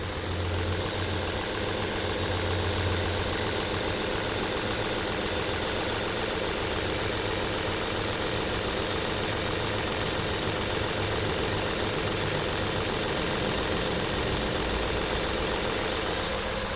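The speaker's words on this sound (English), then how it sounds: "then you get to hear the engine idle." A 2016 Ford Police Interceptor Utility engine idles steadily with a low, even hum and faint vibration, loud and continuous with no talk.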